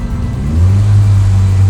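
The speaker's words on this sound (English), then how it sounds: "Revs are on, lights are on, and they're away." Porsche 944 race cars revving on the grid at the start of a race at Sandown Raceway, a loud close engine drone rising into a sustained, steady roar.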